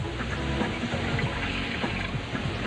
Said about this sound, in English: Now pour your lemon juice into a beautiful jug.